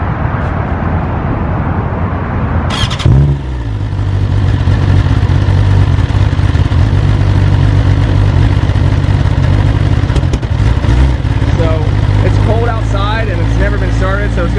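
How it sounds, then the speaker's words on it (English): A 2020 BMW S1000RR sport motorcycle fires up for its first start: a starter whir, then the engine catches with a loud, close, steady idle that carries on while someone talks over it. "All right, 2020 BMW S1000RR. First start, here we go."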